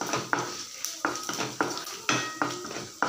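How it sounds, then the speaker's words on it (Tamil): Chana dal and a dried red chili frying in oil in a pan, heard as a series of sharp metallic spatula scrapes and clinks at a regular rhythm over a faint sizzle. "இது நல்லா பொரியுது."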